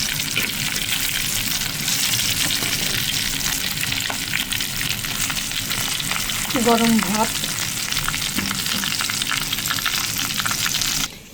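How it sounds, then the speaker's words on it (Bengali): Hilsa fish sizzles steadily in a frying pan, a dense, even crackle of hot oil that runs through the whole stretch, with a brief spoken phrase partway through. "এই ইলিশ ভাজাটা"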